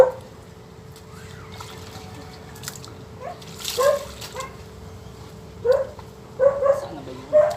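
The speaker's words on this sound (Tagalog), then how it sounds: "Matahol yung aso." A dog barks in short bursts, several yips spaced across the clip, beside a creek with steady trickling water in the background.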